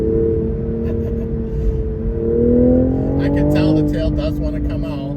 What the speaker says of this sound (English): There we got some pops, very high up in RPM.